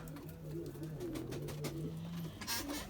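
Pigeons coo softly in low, repeated hums, somewhat distant, over a steady background murmur with a few faint clicks.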